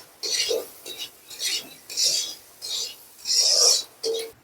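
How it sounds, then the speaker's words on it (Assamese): Lentils fry in a pan with turmeric and salt as a utensil scrapes and stirs in short, rasping strokes, about eight bursts in a row, fairly close and moderately quiet. "প্ৰথমে মই দালিখিনি ভাজি ল'ম"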